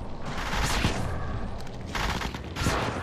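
Bursts of rapid gunfire in the battle royale game Apex Legends come through as dense, loud volleys layered over continuous in-game noise, with several clustered shots and no talk over them.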